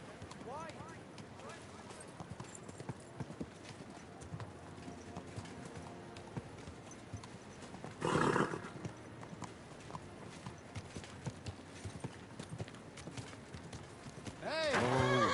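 Horse hooves clip-clop steadily in Kingdom Come: Deliverance 2, a continuous near rhythm of hoofbeats with occasional louder bursts, while people talk intermittently over the top.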